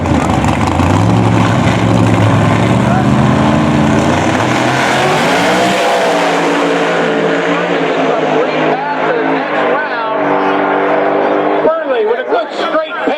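Pro Mod drag race cars thunder down the strip, a loud roaring engine pass that rises and then fades as the cars pull away, with an announcer talking over it.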